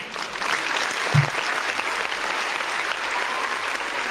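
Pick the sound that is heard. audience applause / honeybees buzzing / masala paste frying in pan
audience applause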